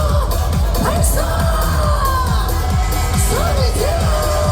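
Large Korean political rally crowd roaring: sustained loud cheering and shouting from many voices, with rising whoops and rhythmic yells over a continuous, thick wash of crowd noise.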